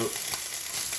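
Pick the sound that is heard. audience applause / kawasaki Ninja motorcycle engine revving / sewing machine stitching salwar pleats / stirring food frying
stirring food frying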